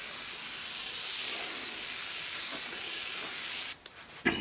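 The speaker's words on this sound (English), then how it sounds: "I didn't clean my airbrush gun good since the last time I used it" An airbrush gun sprays old paint through a stencil onto an old jacket, a steady close airy hiss that runs unbroken and then cuts off into a few short sputters.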